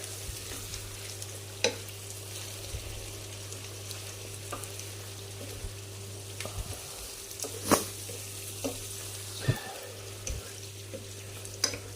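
Onions sizzle steadily as they fry in a pan, a continuous hiss with occasional stirring clinks and scrapes and no talking.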